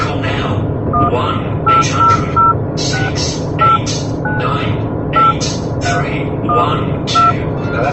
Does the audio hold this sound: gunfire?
no